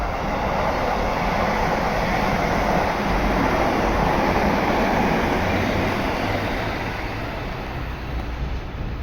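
A train passes through Shin-Okubo station in Tokyo, a loud, continuous roar of wheels and rushing air filling the whole stretch and easing slightly toward the end, with no talk.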